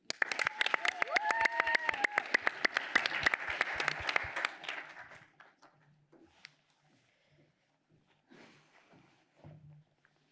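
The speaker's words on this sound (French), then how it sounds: "veuillez applaudir Mathilde Hervé" An audience at a speech competition applauds a speaker with sharp, close claps that build and then thin out after about five seconds, followed by scattered claps and quiet murmurs.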